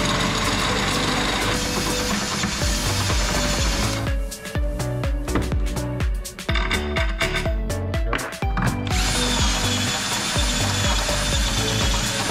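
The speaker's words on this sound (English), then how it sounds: "I'm gonna have to take a drill bit and widen out these holes slightly." A drill bit bores out and widens bolt holes in a steering box adapter plate for a first-generation Cummins truck. It makes a steady motor whine with rattling, chattering bursts in the middle and no talking.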